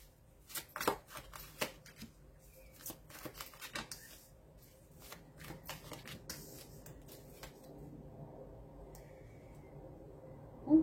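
Oracle cards being shuffled by hand, a run of crisp riffling snaps and soft slides up close, busy at first and then settling into quieter rustling handling.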